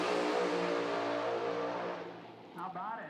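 Bo Butner's Pro Stock drag race car tears down the strip at Bradenton Motorsports Park, its loud high engine note fading into the distance before another rising whine cuts in near the end.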